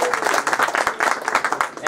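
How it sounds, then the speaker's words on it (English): A crowd at a car dealership raffle event claps and applauds, a dense, steady burst of many hands close by. "big round of applause for Jessie."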